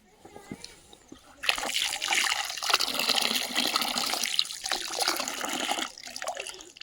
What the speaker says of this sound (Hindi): तो इस नल का पानी इस पतनाले के थ्रू पहुंचाया गया है पाइप से